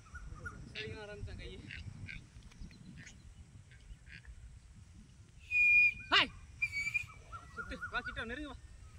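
Shrill whistles sound at a jallikattu bull-taming event, with one loud sustained blast partway through and shorter warbling tones amid shouting and chatter from the crowd.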